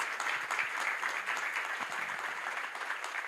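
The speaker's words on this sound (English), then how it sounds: "the panelists do deserve a big round of applause" Steady round of applause from a conference audience for a panel on environmental transition, dense continuous clapping held at an even level for a few seconds, heard alone.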